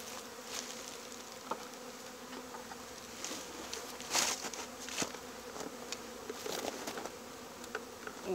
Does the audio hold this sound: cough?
no